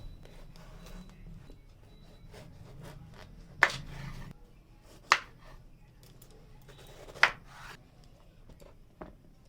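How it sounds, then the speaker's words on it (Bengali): A knife cuts through a young, tender bottle gourd, making soft scraping and rubbing sounds close by. Three or four sharp, distinct chops or taps stand out as the blade meets the board. "এবার লাউটাকে কেটে নেব"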